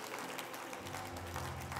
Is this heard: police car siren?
no